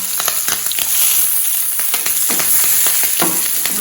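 Garlic and green chillies fry loudly in hot oil for dal, a constant close crackling sizzle dotted with sharp pops and stirring scrapes.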